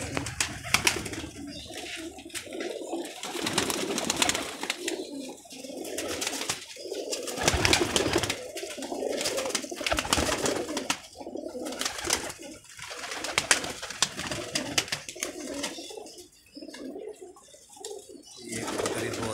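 Pigeons coo repeatedly in soft, rolling calls from a loft, with occasional wing flaps and faint background voices.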